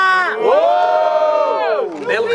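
A crowd at a Brazilian rap battle erupts in loud cheering and shouting, a sustained roar of many voices that swells, holds, then dips before rising again.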